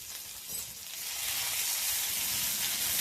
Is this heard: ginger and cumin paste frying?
yes